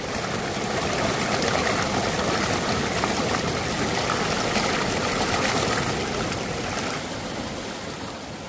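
The snowmelt-fed Doodhpathri river in Kashmir rushes over rocks among pine trees, a loud, steady, close roar of flowing water that eases slightly near the end.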